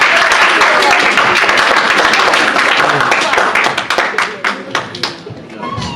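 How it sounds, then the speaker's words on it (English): At a youth retreat, a crowd applauds two sisters coming up. The clapping is loud and dense at first, then thins into scattered individual claps and fades out. "So round of applause for our 2 sisters that are coming up."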